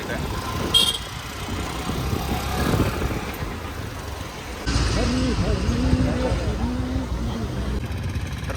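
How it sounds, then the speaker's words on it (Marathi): Heavy road traffic in Mangaon on the way to Raigad, with engines rumbling and a short car horn toot early on, while someone talks over the steady roadside noise. "माणगावला ट्रॅफिक आहे चालू, पाहू शकताय. भरपूर ट्रॅफिक आहे."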